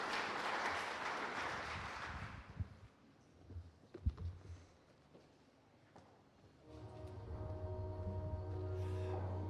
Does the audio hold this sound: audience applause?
yes